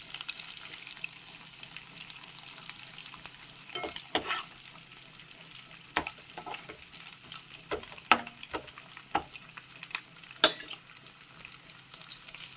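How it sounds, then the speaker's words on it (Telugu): Food frying in a pan for a short while, giving a soft, fairly quiet sizzle broken by scattered scraping and tapping stirs, with no talk. "ఇలా కొద్దిసేపు వేగాలి"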